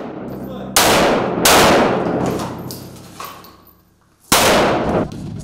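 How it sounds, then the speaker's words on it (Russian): Loud, sharp gunshots crack out during special forces firearms training, three main reports spaced over several seconds, each with a ringing outdoor decay, plus a fainter shot in between. "Огневая подготовка у бойцов в обязательном порядке почти каждую неделю."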